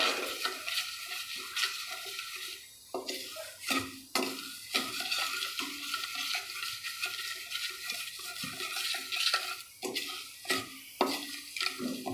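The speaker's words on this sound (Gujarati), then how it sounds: "હવે એને આપણે હલાવતા રહીશું આવી રીતે સતત ખાંડ પીગળે ને ત્યાં સુધી" A spoon scrapes and stirs sugar and water into syrup steadily around a pan with a faint sizzle underneath, punctuated by occasional sharper clinks against the metal.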